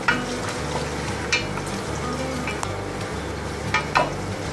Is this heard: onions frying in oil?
yes